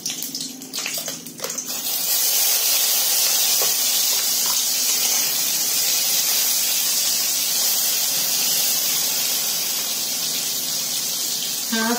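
Ground paste of two onions, six or seven garlic cloves, ginger and green chilies hits hot oil in a home kitchen, a steady loud frying hiss after a brief clatter, continuing evenly with no talk.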